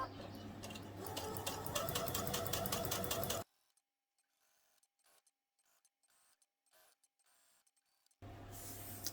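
A sewing machine runs a narrow hem in black thread with a fast, steady mechanical chatter, stops for several seconds of near silence broken by faint handling clicks, then starts stitching again.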